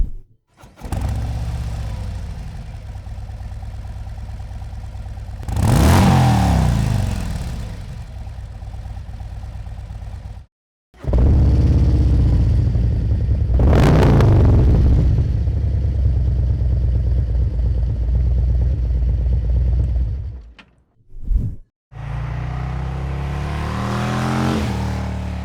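A Harley Street Glide with a Khrome Werks 2-into-2 dual exhaust runs loud and near, a steady deep rumble broken by two strong revs and two brief cuts, with no voices.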